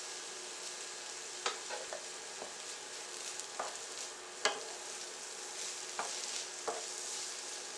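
Couscous is stirred in a hot pan, with a quiet sizzle throughout and a handful of short, scraping spoon strokes at irregular intervals.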